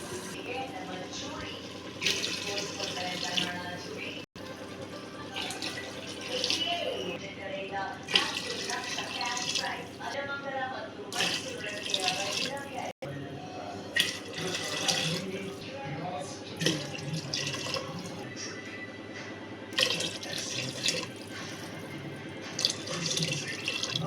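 Water runs steadily from a tap into a pot for cooking rice, a continuous hissing splash with faint kitchen clatter in the background.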